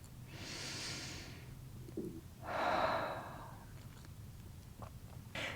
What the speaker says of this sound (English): Let's take another breath together.